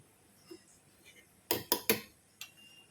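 Metal spoon clinks against a pot or bowl while salt is added to a bitter gourd fry, a quick cluster of three sharp taps followed by a lighter fourth, faint and close in a quiet kitchen.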